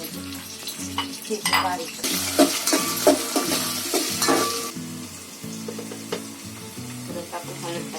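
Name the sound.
garlic frying in oil for mutton curry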